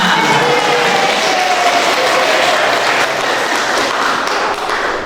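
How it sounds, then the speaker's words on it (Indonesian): An audience at an Indonesian motivational talk on work spirit breaks into loud, sustained applause, dense clapping filling the whole stretch close and steady without a break. "Tepuk tangan."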